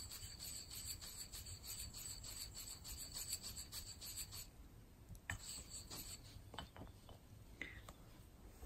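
An ink stick grinds against an inkstone in soft, steady rubbing strokes, close and quiet, with a few faint taps and scrapes near the end during calligraphy preparation.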